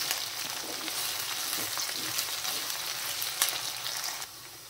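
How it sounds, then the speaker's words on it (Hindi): Chopped green chillies frying with potatoes in a pan make a steady close sizzle with small crackles and spatters throughout, with no talking. "इसमें हम लोग हरी मिर्च डाल देंगे कटी हुई, इसको 1 मिनट तक फिर हम लोग भून लेंगे।"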